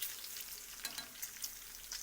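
Fatty bacon frying in a cast iron pan, a steady crackling sizzle with scattered sharp pops spread across the whole stretch, heard alone without speech.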